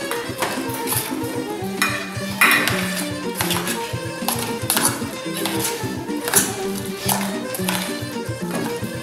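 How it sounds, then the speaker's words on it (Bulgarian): Sliced potatoes being stirred in a bowl with salt, oil and vinegar, giving repeated clinks and taps of utensil against dish at close range, with a faint voice now and then underneath. "Разбъркваме добре."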